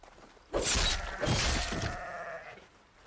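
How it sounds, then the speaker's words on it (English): A goat or sheep in the video game Horizon Forbidden West lets out two close, wavering bleats in quick succession, each trailing off into faint ambience. "Goat."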